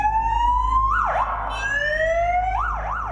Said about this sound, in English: The officer was on his way to test the sirens on his motorbike